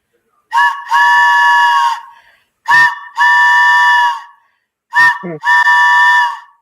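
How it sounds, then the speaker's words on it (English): A loud, honking party whistle blares three times, each a sustained shrill blast preceded by a short chirp, with brief pauses between. "It's our celebratory birthday whistle"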